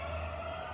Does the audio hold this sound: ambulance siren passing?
yes